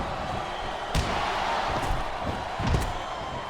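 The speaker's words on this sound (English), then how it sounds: "Listen to the crowd, JR." Arena crowd noise at a WWE Raw match in a SmackDown vs Raw video game, a constant roar broken by a few sharp thuds and slams from the ring.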